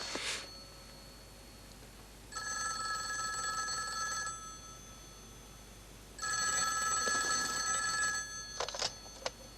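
A telephone bell rings in two clear bursts, each about two seconds long and separated by a pause. The phone is heard alone in a quiet room, with a few faint clicks near the end.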